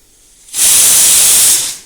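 A pressure cooker with mango inside gives a single loud, close rush of hissing steam that lasts about a second before tapering off, with no voices.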